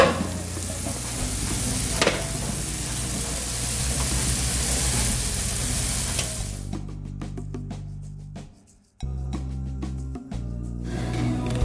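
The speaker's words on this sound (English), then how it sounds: "They look good. They're sizzling." Mushrooms sizzle loudly in a hot frying pan, a dense crackling hiss that fades partway through, followed by quieter popping and stirring scrapes.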